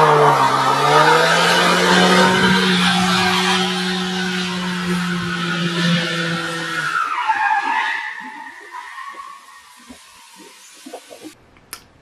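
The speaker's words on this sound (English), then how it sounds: "we had a lot of wheel spin, a lot of tire smoke" Ford Mustang doing a launch test with heavy wheel spin and tire smoke: a loud, close engine roar with a long, squealing tire skid that fades into quieter rumble and scattered knocks at the end.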